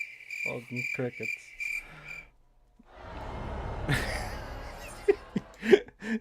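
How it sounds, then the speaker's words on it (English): Crickets chirp in the Final Fantasy XIV video game, a loud rhythmic trilling that stops after a couple of seconds, followed by noisy stream chatter and brief laughter. "Oh, fucking crickets."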